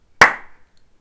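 Brief, sparse applause from a small handful of people in a Gamescom 2013 presentation room, a single sharp burst of claps that quickly thins to a few scattered soft claps.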